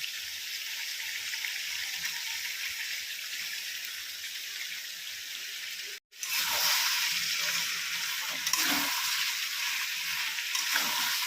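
Fried onions tipped into a meat curry that is sizzling in released oil, a steady loud hiss broken by a brief drop near the middle, then a fresh surge of frying sizzle with faint stirring.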